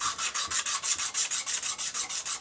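Quick, regular back-and-forth hand sanding strokes cleaning up a Subaru WRX/STI engine surface during head gasket replacement, a bright, gritty rasp pulsing evenly and close by with no other sounds.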